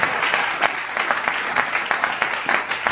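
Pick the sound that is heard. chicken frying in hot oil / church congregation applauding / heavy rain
church congregation applauding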